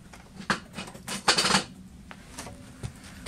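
Metal utensils clatter and clink as someone rummages through them for a pair of scissors, with a few sharp knocks and a brief louder jangle, close by and with no talking.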